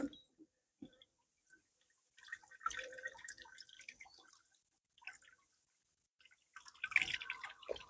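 Melted beeswax drips from a strained mesh into a bucket, giving sparse, soft, irregular drips and short splashy bursts. The sound is quiet and close, with louder clusters in between.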